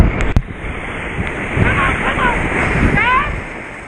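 A raft runs whitewater rapids in Browns Canyon, with rushing, splashing water and wind buffeting the microphone, close and loud, while voices call out and shout over the roar.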